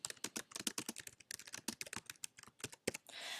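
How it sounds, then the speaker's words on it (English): Rapid, uneven clicking of keys on a computer keyboard, close and fairly quiet, ending with a short soft rustle. "you can see when I start typing"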